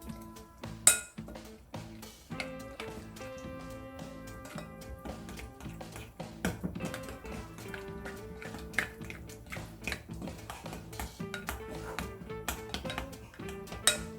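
Spoon clinking and tapping against a bowl while seasoning sauce is stirred with minced garlic and sesame oil for grilled sea eel, a steady run of light metallic taps and clinks, close and clear, with no talking.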